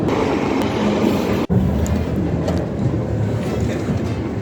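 A London Underground train running, a steady loud rumble and rattle of wheels on track throughout, with one brief dropout partway through.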